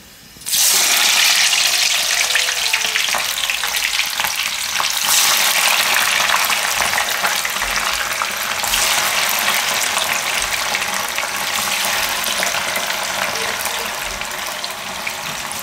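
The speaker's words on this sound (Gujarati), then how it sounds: "તો તેલ ગરમ થઈ ગયું છે, તો ડુંગળી આપણે એમાં નાખી દેવું." Chopped onions frying in hot oil for a Gujarati dum aloo biryani, a loud, steady sizzle that erupts as they drop into the pan and holds evenly throughout, with no talking.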